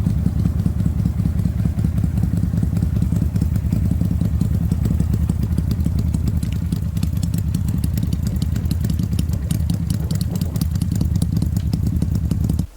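Loud, rough motorcycle engine running continuously up close, a dense rumbling idle with rapid clattering pulses and slight surges in revs, with no voices over it.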